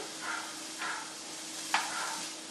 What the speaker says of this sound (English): Okay, and that's sauteing up nicely